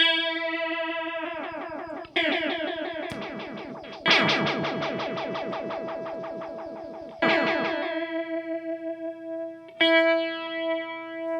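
Electric guitar notes and chords ring out through a Moogerfooger MF-108M Cluster Flux modulation pedal set to a triangle waveform, the pulsing wobble rising and falling steadily as each note sustains.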